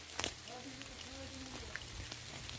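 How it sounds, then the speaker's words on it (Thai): Rain falling in mountain forest during mushroom foraging, a steady patter of drops on leaves and surfaces, soft and continuous, with faint background voices. "เพราะว่าฝนตกครับ"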